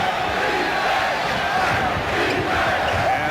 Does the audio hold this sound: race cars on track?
no